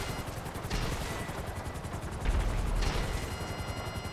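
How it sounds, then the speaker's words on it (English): Helicopters and gunfire in the GTA Online video game, with dense rattling bursts of shots over a steady rotor-like rumble that swells louder in the second half. "Alright, so here comes the helicopters."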